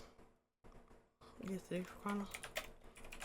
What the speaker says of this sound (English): I don't know what's happening here with my typing just now.